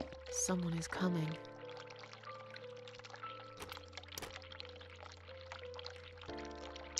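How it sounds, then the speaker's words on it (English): Water running from a tap in The Cat Lady video game, a splashing pour near the start that then settles into a quieter flow beneath sustained musical tones. "the water's still running"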